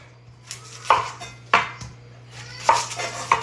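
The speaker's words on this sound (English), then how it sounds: "Chop the onions up real quick." Knife blade striking a cutting board while onions are chopped in a home kitchen, several sharp, separate knocks at uneven intervals, close and fairly loud with a low steady hum behind them.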